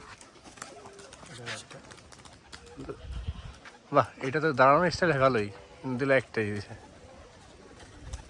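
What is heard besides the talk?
pigeons cooing at pigeon farm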